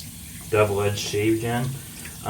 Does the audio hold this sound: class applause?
no